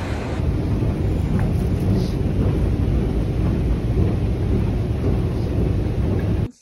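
Rain pours steadily outdoors in London, a dense continuous roar mixed with heavy wind buffeting the microphone, loud and unbroken until it cuts off abruptly at the end.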